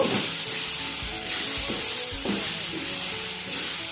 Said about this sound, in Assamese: এতিয়া মই আকৌ অকণমান সময় ভাজিম